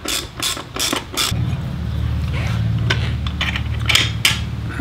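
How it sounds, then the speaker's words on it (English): A 12 mm socket wrench clicks through several quick ratchet strokes while breaking loose a bolt on a KLR650 motorcycle during a crash bar install, followed by a steadier low mechanical grinding hum as the bolt turns, close and clear. "a 12-millimeter socket on the other to break that loose"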